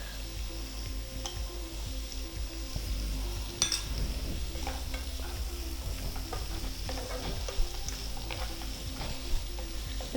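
Cashew nuts sizzle steadily in hot oil in a pan while paneer butter masala is being made, a continuous close frying hiss with occasional light clinks of a spoon stirring against the metal.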